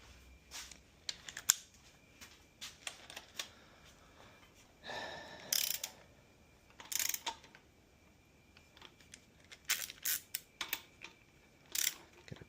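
A socket ratchet works on bolts of a Continental Z134 gas engine from a Massey Ferguson 35, giving irregular short bursts of clicking and metallic handling noises, fairly quiet and close, with pauses between.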